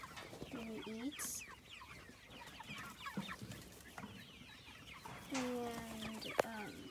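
A farm chicken clucking nearby in short repeated bursts, with a second run of clucks later and other faint barnyard noises under a quiet voice.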